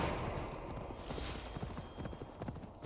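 Horse hooves clip-clop steadily in Assassin's Creed Valhalla, a quick galloping rhythm of many close, loud hoofbeats with a brief whinny-like tone over the game's ambient background.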